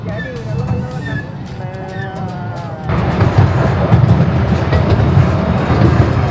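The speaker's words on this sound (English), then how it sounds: "I just wanted to ride the train." Rumbling amusement park train ride at Hersheypark at Christmas, rattling wheels growing louder midway, people chatting and calling out over the steady mechanical din.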